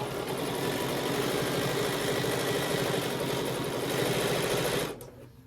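A sewing machine stitching a serpentine quilting line on a Christmas advent calendar panel hums in a fast, steady whir close by, then stops abruptly near the end.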